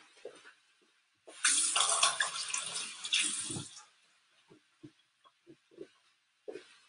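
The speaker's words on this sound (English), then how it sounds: "I am going to rinse my hand off real quick" Kitchen tap water running over a hand as it is rinsed, a steady splashing flow for about two seconds, followed by a few faint drips and small handling sounds.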